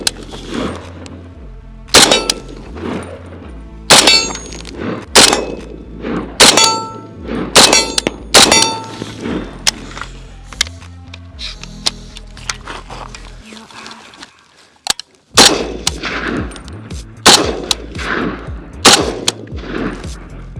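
Gunfire at an outdoor shooting range: loud, sharp shots in a mostly regular rhythm with metallic clangs of steel targets, a brief lull, then more rapid shots, with voices in between.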